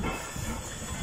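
A steam train hisses and rumbles nearby in freezing winter conditions, a continuous low mechanical drone with steady steam hiss and no clear wheel rhythm.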